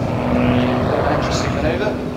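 A propeller-driven CT-4 trainer of the RNZAF Red Checkers aerobatic display team drones steadily overhead, a loud broad engine roar that holds for the whole stretch.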